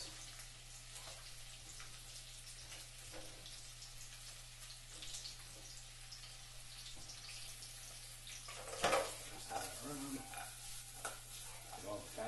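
Vegetables tossed all at once into a hot, oiled pan over high heat, giving a continuous soft sizzle with a sudden louder crackling burst as they hit and get stirred.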